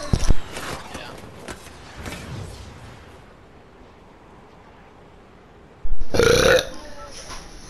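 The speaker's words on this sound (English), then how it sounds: "I can burp forever" A loud, close burp during a Fortnite season 3 session, one short burst at the start and another longer, rough belch near the end, with quiet background noise between.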